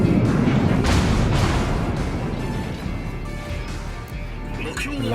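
Heavy naval gunfire from a Yamato battleship in World of Warships, a loud opening boom followed by a long rumbling roar that decays slowly, with further distant blasts and a commentator talking over it.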